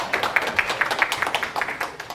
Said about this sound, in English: you can give her an applause